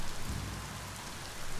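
Rain and thunder in the action game Biomutant, a short burst of steady rainfall over a low rumbling thunder that swells at the start and again at the end.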